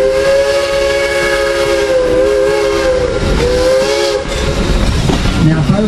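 A 1948 GE diesel locomotive, once run on the High Point, Thomasville and Denton Railway, gives a loud sustained horn blast over rumbling engine and hiss at an outdoor farm park show, with the horn fading near the end.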